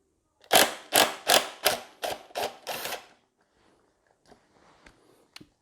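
Seven rapid bursts from an impact driver loosening a 5mm Torx lock bolt at the bottom of the left fork on a Suzuki Intruder VS1400, loud and close, followed by faint clicks and handling noises.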